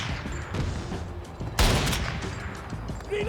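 A burst of automatic gunfire from Battlefield 2042 erupts loudly partway through, following quieter distant battle noise and fading into a rumbling tail.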